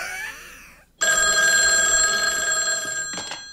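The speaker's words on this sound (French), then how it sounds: "Plus fort la sonnerie la prochaine fois, les amis." An old-style telephone bell rings loudly and continuously in a scene from the 1989 horror film Pet Sematary, its steady ring starting abruptly after a moment of quiet and cutting off near the end.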